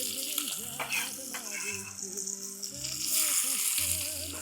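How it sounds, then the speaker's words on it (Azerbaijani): Vegetables sizzle steadily as they fry in hot oil in a pan, a dense crackling hiss that swells louder near the end, with faint tonal background sound underneath. "Bunu qoyuruq kənarda, eyni yağın içinə göndəririk tərəvəzimizi."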